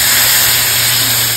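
Water hits a hot pan of spice-fried potatoes and sets off a loud, continuous hissing sizzle that fills the whole moment, close up and steady, with nobody talking.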